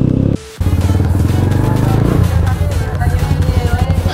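A motorcycle engine runs close and loud with a steady, pulsing rumble, briefly dipping before carrying on as the bike rides along through a tunnel.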